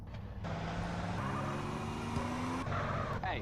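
A car engine in the video game GTA San Andreas hums steadily while driving, with tonal engine pitches stepping up as gears change, sitting alone without talk at fairly low level.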